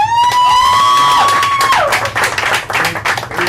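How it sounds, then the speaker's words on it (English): A talent show crowd claps and cheers, with a sharp whistle or high-pitched cry rising over the applause before settling into scattered clapping and crowd noise. "Can I get a round of applause for that, baby?"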